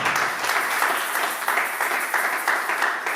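A church congregation at a Sunday service applauds its pastor with continuous, full, close clapping from many hands.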